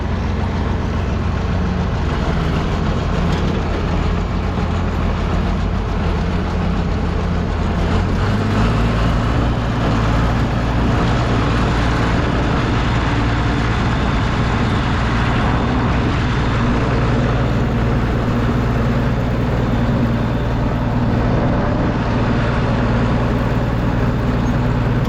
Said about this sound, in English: I'm going to take this tractor back up the shed.